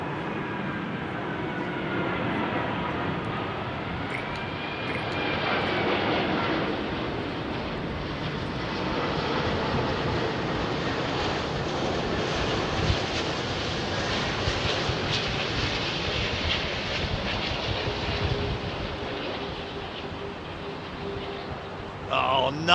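A Singapore Airlines Boeing 747 freighter on approach and landing at London Heathrow gives a loud, sustained jet roar that swells and lingers with a whining engine tone, and a voice talks faintly over it.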